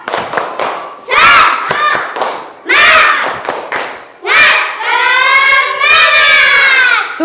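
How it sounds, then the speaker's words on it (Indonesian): Classroom students perform a rhythmic spirit clap, sharp claps in bursts with loud group chanting and shouting between them, close and energetic. "Tepuk semangat."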